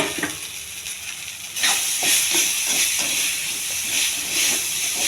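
Cooled brown rice goes into hot tempering oil for lemon rice. A soft hiss jumps into a loud, steady sizzle partway through and keeps crackling to the end.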